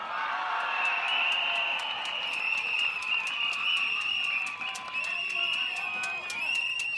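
A large outdoor political rally crowd at Bishan Stadium cheers and applauds continuously, a loud dense wash of clapping and shouting with whistles and a steady high pitched tone running through it.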